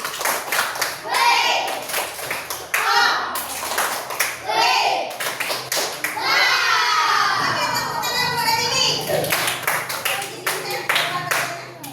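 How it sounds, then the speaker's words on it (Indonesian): A children's class bursts into rounds of hand clapping, loud and close, with kids shouting and chattering between and over the applause. "Oke, tepuk tangan."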